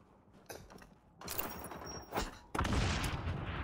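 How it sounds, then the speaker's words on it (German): Video-game gunfire in the shooter XDefiant: scattered bursts of shots that start sparse and quiet, then swell into a loud, dense volley near the end, with a mechanical clatter mixed in. "So, da wird geschossen."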